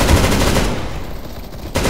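Loud, close video-game gunfire: rapid automatic shots rattle in a dense burst, ease off briefly, then resume sharply at the end.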